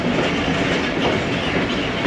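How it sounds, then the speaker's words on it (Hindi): Ravi Express passenger train rolling toward a railway level crossing while slowing, a steady loud rumble of wheels and carriages with faint clickety-clack throughout, no voices. "दोस्तों ट्रेन फिर स्लो हो गई है और शायद रुक रही है।"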